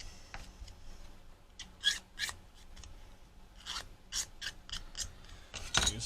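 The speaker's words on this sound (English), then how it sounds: "this is 600 wet dry sandpaper, and I'll be using it wet a little bit" Wet/dry 600-grit sandpaper rubbed along the edges of a plastic model car part for a 1967 Plymouth GTX Hemi kit, a series of short, soft scratching strokes in uneven rhythm, quiet and close, with no voices.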